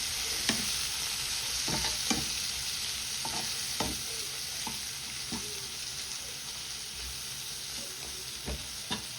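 Bitter gourd being mixed with spices in a pan, Jaffna style, with steady sizzling frying and repeated spatula scrapes and knocks at an uneven rhythm, close and fairly loud.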